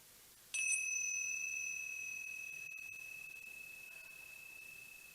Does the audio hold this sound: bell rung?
yes